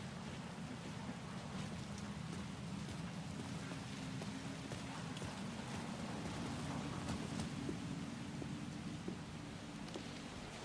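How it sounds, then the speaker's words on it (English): Steady rain falls in a dark city alley in the video game Alan Wake 2, a continuous even hiss of drops on surfaces with a low rumbling undertone and no talk. "And the rain has started now."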